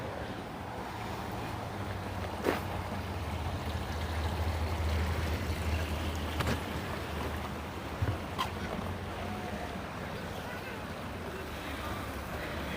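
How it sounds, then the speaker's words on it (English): Water running through a farm water feature outdoors, a continuous broadband rush with low rumble and occasional light knocks, steady in level throughout. "there's some more of the water feature"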